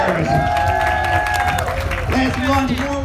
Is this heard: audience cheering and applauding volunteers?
yes